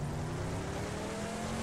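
A vehicle engine in the mobile battle-royale game PUBG Mobile, on the Livik map, drones steadily at a constant pitch, loud and unbroken, with no voices.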